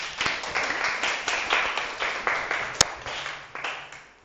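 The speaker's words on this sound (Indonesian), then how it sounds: "Tepuk tangan semuanya." A class of students in a primary school physical education lesson on the long jump applauds together, with steady ragged clapping lasting a few seconds.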